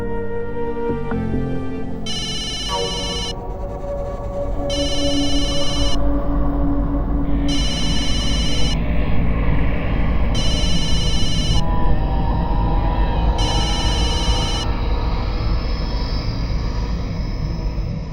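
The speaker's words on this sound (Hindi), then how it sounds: "पापा, किसका फोन है?" A telephone rings in repeated evenly spaced bursts over a steady musical background score in a household drama scene, five rings clearly standing out.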